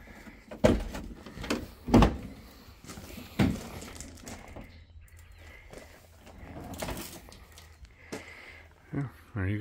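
A car door on a DeLorean inside a barn build is opened and closed, giving a few sharp clunks and thumps close by, with someone talking in between.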